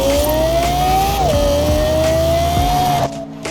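Lexus LFA engine in the racing game Forza Horizon 4, a loud, high, steady rev that climbs, dips briefly at a gear change, climbs again and then cuts off near the end.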